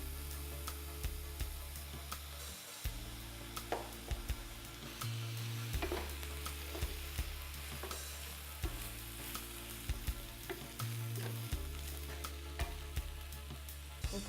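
Rice for red rice frying in a pan, with a steady close sizzle throughout and intermittent stirring scrapes and clicks on top, no voices.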